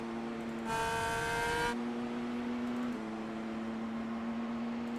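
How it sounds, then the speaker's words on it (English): Race cars in the iRacing IndyCar sim at Pocono hold a steady engine drone while one car bounces off the rev limiter in a sustained buzzing burst, loud over the continuous field of engine noise. "you'll hear cars pinging off the rev limiter"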